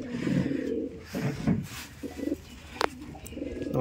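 Giribaz pigeons at a pigeon farm coo in soft, repeated throaty phrases close by, with a brief sharp flutter or knock partway through and no talking.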